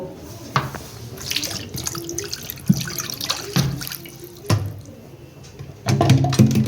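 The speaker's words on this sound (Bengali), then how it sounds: "এখানে কিছুটা আমি জল দেব অল্প" Water pours briefly over chicken biryani in a pot, a close splashing trickle with a few soft drips and utensil knocks, no voices.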